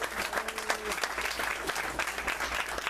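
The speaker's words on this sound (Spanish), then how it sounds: "un aplauso para los tres ahí" Audience applause for three performers at a national conservatory music event, steady clapping for about three seconds with a faint voice briefly heard over it.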